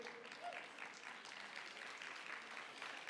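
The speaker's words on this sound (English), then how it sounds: "Please give them a round of applause." An audience at the 2025 IAC preliminaries claps in a sustained round of applause, fairly quiet and distant, a dense patter of many hands holding steady from start to finish.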